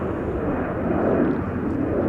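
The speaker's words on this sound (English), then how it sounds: "Got a 777 that's about to touch down in just a moment or two." Qatar Airways Boeing 777 on final approach to land at Chicago O'Hare, a steady broad engine roar close and loud throughout, with no speech.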